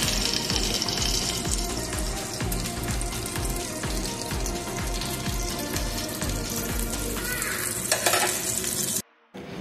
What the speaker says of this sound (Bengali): উল্টে পাল্টে 2 মিনিট ঢেকেও ভেন্ডিটাকে ভালো করে ফ্রাই করে নিই